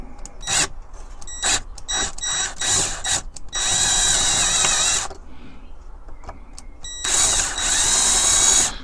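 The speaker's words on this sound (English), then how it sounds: "I'm just going to drill into these two pieces" A power drill whirs in short bursts, then runs in two long loud stretches as it bites into metal parts of a Corgi 1127 Simon Snorkel toy fire engine, up close with no talking.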